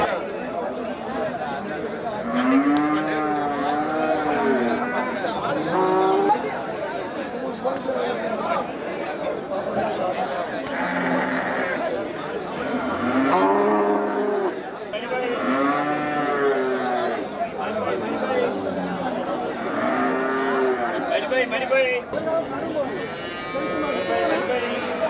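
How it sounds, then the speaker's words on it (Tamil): Cattle moo repeatedly at the busy Melapalayam cattle market, with long, low calls rising through constant crowd chatter and people talking nearby. "நாட்டு மாடு"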